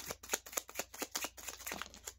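Tarot cards are shuffled by hand, a close series of quick soft riffles and slaps in an uneven rhythm, each stroke a short papery burst.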